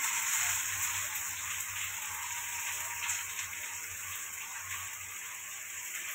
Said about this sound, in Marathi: आणि आता कांदा टाकून घेते.